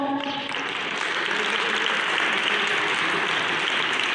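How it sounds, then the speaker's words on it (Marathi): An audience claps for children at a Sunday community event in Shirasgaon, Nashik, a dense sustained round of applause after a brief voice at the start. "आणि अजून एकदा टाळ्या वाजवा मुलांना."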